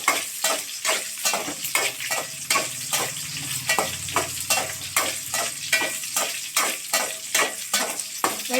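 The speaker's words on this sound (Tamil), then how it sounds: "கத்திரிக்காவை லைட்டாக வதக்கிட்டு" Sliced eggplant sautéed and stirred in a pan, a steady close sizzle broken by repeated rhythmic scraping strokes of a spoon, heard alone.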